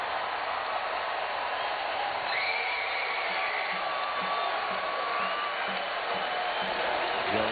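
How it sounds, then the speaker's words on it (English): A basketball arena crowd at an Arkansas vs. Ole Miss game roars steadily, a broad sustained din with whoops and cheers on top, and faint court sounds beneath. "Listen to this crowd."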